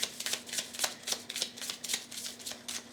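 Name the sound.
shuffling tarot cards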